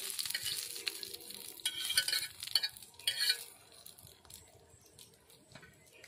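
Hot tempering hitting doi fulki, a vegetarian yogurt-based dish: a burst of sizzle and hiss that swells in the middle, then fades to a soft crackle, fairly quiet and with no talking.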